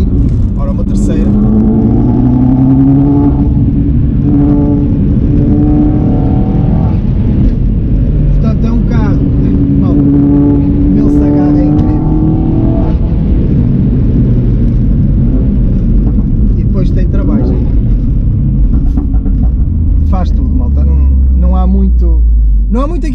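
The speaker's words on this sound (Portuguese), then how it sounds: "já para não dizer deste barulho fabuloso que o carro faz." A Mini Cooper S F56 JCW with about 300 hp accelerates in third gear, its engine note climbing loud and close in repeated surges from inside the cabin while someone talks over it.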